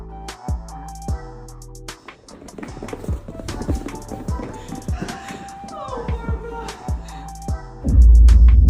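Horse hooves clop in a steady, spaced rhythm on a hard surface, close and clear, with a loud low rumble swelling in near the end.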